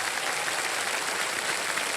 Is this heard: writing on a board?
no